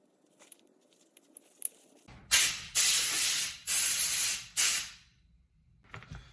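Compressed air blasting through disassembled Andis Master hair clipper parts in four loud hissing bursts separated by short pauses, with faint metallic clicks and handling noises before and after.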